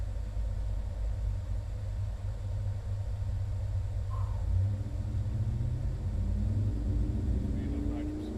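Ford 408W engine making a full-throttle pull on nitrous, a heavy continuous low roar that rises steadily in pitch toward the end, heard from some distance with faint voices underneath.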